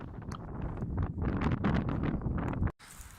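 Wind gusts at an outdoor climbing crag in Tenerife, rumbling and buffeting steadily against the microphone for nearly three seconds before cutting off abruptly.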